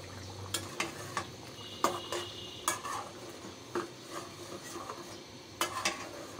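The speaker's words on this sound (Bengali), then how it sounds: "আর এদিকে গরুর গোশতটা একটু কষানো হচ্ছে।" Beef braising in a pan for bhuna khichuri, stirred in uneven strokes so spatula scrapes and clinks pop up over a low, steady sizzle, close and without speech.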